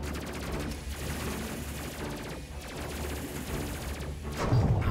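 Rapid bursts of gunfire crackle steadily for several seconds, dense overlapping shots building louder toward the end, with no voices over them.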